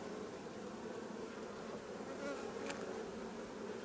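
Honeybees buzz steadily around an open hive while a beekeeper works through the frames, a dense, even drone that holds throughout with a few brief louder passes of individual bees close by.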